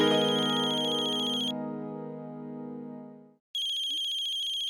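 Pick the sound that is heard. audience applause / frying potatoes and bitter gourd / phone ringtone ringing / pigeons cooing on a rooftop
phone ringtone ringing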